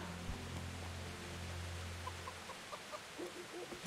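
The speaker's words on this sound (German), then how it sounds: "Guckt euch dieses verdammte Huhn an." A chicken in Kingdom Come Deliverance gives a few soft, short clucks near the end over a quiet ambient hum, faint and sparse.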